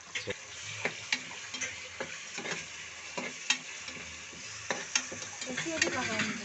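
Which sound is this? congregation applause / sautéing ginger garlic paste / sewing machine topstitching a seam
sautéing ginger garlic paste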